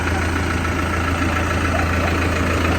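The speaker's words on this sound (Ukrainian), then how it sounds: "заїжджають у нас тракторці на порівняльний тест-драйв" Engines of a Basak 2110S and a John Deere 6110B tractor running together at a steady idle, a continuous low rumble with a deep hum that stays even and close throughout, with no talking.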